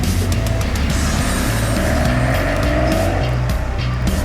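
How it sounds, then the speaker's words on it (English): Six-litre twin-turbo V12 engine of a 2005 Mercedes-Benz SL65 AMG, a loud close roar with a rapid pulsing throb that holds steady for a few seconds and carries some tire noise. "that's 6 litres of twin-turbo Mercedes V12 450 kilowatt 1000 newton metre madness"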